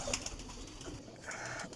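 Parwazi high-flying pigeons coo in soft, repeated bursts over a constant background rustle, fairly close, with no one speaking.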